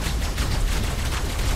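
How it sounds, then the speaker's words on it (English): Rapid gunfire in the survival video game Ark Survival Evolved, a dense fusillade of repeated shots fired at a cliff, loud and continuous with no talk over it. "You're shooting the cliff."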